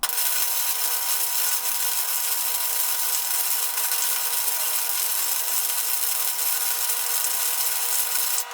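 Flux core arc welding with Matheson 030 self-shielded wire on a Harbor Freight welder, a steady, loud, continuous crackling buzz that holds evenly for several seconds before cutting off at the end, with no talking.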